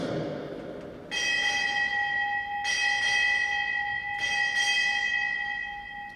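At a US Navy retirement ceremony, a ship's bell sounds six times in three evenly spaced pairs, each bright metallic strike ringing on and overlapping the next.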